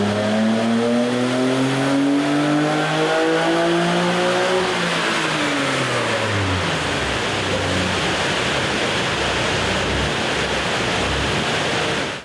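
A Nissan R33 GT-R with an RB26 engine and a Kelford drop-in camshaft revs hard on a dyno, its tone climbing steadily as it pulls through the run, then blending into a loud, sustained roar.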